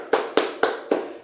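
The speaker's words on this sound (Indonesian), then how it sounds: "Jadi tepuk tangan dulu untuk Ibu Maimunah dan Ibu Maisaro." Applause for two speakers at a training session in Sumenep, heard as four short, evenly spaced bursts of claps, each decaying quickly, with no talking over them.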